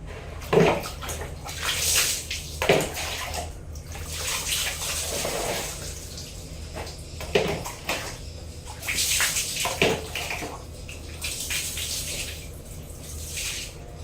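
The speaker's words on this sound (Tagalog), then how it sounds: "So, ayan, pinupuno ko muna yung tubig ngayon." Tap water running into a container in a bathroom under weak water pressure, a steady splashing trickle with intermittent louder gushes and sloshes, close by and with no speech.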